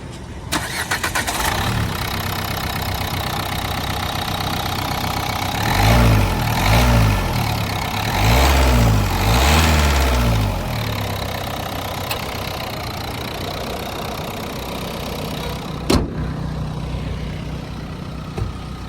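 A 2016 Renault Duster RxZ 110ps automatic with a diesel engine cranks and starts, then settles into a steady clattering idle. The sound is close and loud, with a few throttle-like surges near the start.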